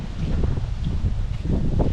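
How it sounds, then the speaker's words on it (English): Strong wind buffets the microphone in a constant low rumble, gusting and rustling without pause. "It's really windy."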